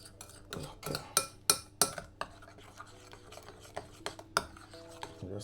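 A wire whisk stirs banana fritter batter in a bowl, giving sharp irregular clinks and scrapes of metal against the bowl, close and distinct with quieter stretches between strokes.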